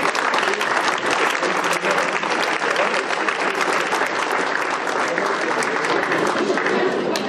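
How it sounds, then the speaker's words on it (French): A crowd at a chocolate fair in Moissac applauds the participants, loud, dense clapping sustained evenly throughout, with a voice faintly beneath it. "je ne peux qu'à nouveau vous demander d'applaudir les participants"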